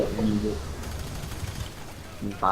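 Gunfire in the shooter game F.E.A.R. 3 sounds as a burst of rapid shots in the middle, with a voice heard just before and after.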